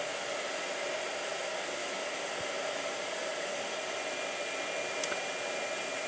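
Blow dryer running steadily throughout, a constant broadband airy whoosh at moderate level, heard alone with a faint click near the end.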